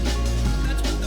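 Dense, loud breakcore from a video game soundtrack, with distorted bass and busy, choppy drums running continuously through a short excerpt, with no talking.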